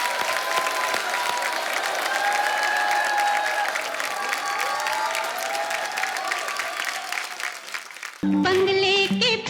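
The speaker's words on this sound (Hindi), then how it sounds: "जोरदार तालियां हो जाएं।" A studio audience on a comedy show claps loudly for a tribute for about eight seconds, with some cheering in the mix. The applause then cuts abruptly into music.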